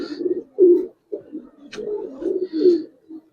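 Giribaz coloring pigeons coo repeatedly, a run of low throaty rolling calls in short bursts with brief pauses, close and clear.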